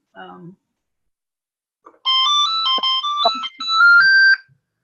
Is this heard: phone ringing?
yes